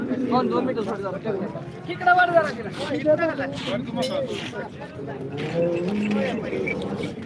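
Cattle low and moo among the crowd at the Modnimb cow market, long bellowing calls rising over constant chatter and people talking nearby.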